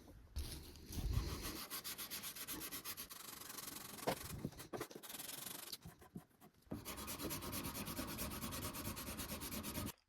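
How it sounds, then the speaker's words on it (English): Hand sanding the handle of an old restored knife with 400 grit sandpaper wrapped around a backing block, producing long continuous rasping strokes close to the listener, with a brief pause midway before the rubbing resumes. "I'm going to wrap this up in the sandpaper, and this is what I'm going to use to back it while I sand"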